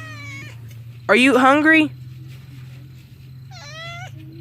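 A pet cat meows in drawn-out cries, with one loud, close meow in the middle and softer ones near the start and end, while a person speaks gently to it over a low steady hum.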